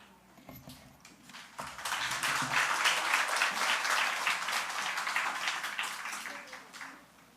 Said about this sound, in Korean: 정찬호 선교사님 위해서 다시 한번 박수 부탁드리겠습니다